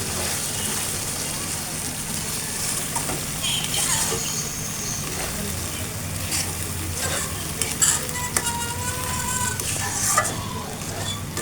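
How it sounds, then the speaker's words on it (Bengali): Stuffed pointed gourd (kakrol) fries lightly in oil, making a continuous crackling sizzle close by, with occasional utensil taps and faint voices underneath. "এখন আমি হালকা একটু ভেজে নিব।"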